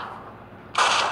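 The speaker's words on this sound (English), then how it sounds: "Oh, I'm being shot at already!" Gunfire from the Atomic Bomber video game bursts in suddenly after a quiet stretch, a loud dense crackle of shots that holds steady to the end.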